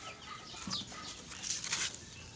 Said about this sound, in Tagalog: bagong pisa yan. 3 araw pa lang yan mga idol